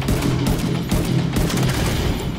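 Dense, loud gunfire and booming blasts from a grenade explosion in The Division 2, a continuous barrage of rapid shots and heavy low rumbles with no pauses.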